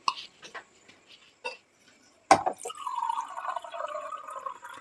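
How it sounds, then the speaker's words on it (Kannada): Water is poured into an eggplant (brinjal) masala mixture, first a few faint drips and taps, then a sharp clatter followed by a steady, moderately loud pouring trickle. "ಸ್ವಲ್ಪ ನೀರು ಹಾಕೊಳ್ಳೋಣ"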